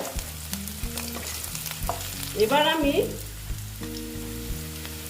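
Rohu fish pieces frying in hot oil in a pan, a steady crackling sizzle throughout with a brief louder burst of stirring and scraping midway, plus a low humming tone underneath; a voice speaks briefly at the start.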